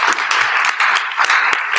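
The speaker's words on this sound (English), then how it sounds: "if we could give a round of applause to Senator Wilkerson for her legacy" An audience at a 2022 candidate forum gives Senator Wilkerson a round of applause, a loud, dense burst of clapping heard close up for under two seconds.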